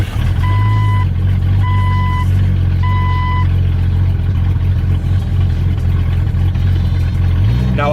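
A Jeep engine runs loud and close with a steady low rumble, while three repeated electronic warning beeps sound near the start and the engine note rises slightly at the end.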